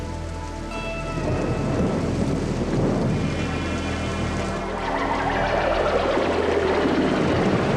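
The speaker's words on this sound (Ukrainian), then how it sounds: "Перший травневий грім." Thunder rumbles through a spring thunderstorm, steady rain pattering on surfaces throughout, with a rolling boom swelling after the first second and the downpour staying loud to the end.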